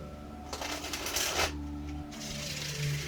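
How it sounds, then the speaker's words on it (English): A tarot deck with textured card backs is shuffled close up in one brisk riffling burst of papery flutter, followed by quieter handling of the cards. "Oh, and the shuffle is so nice."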